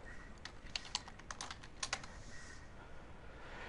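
Someone types a location on a computer keyboard, with a burst of soft, fast key clicks in two uneven clusters against a steady hiss.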